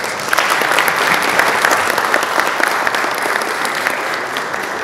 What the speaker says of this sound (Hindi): पहली बार तालियों के लिए दरख्वास्त कर रहा हूँ, इस्तकबाल कीजिएगा